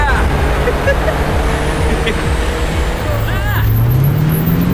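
Vehicle engines roar continuously in an animated street scene as a car is driven teasingly close to a moving truck, with a rising engine drone near the end and a loud, steady wash of traffic noise under dialogue.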